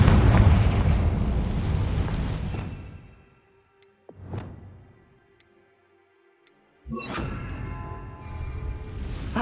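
Confringo spell explosion in Hogwarts Legacy on PS5: a loud, rumbling fiery blast that fades out, a short crackling pop, near-silence with faint ticks, then another heavy roaring burst.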